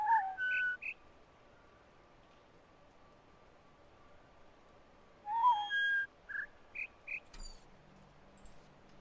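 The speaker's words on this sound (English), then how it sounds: "you have like the long chirp sound and then the small ones" Whistly chirp tones from a video game sound puzzle come in two clusters, a long chirp followed by several short ones, then a spaced run of brief chirps, clear against near silence.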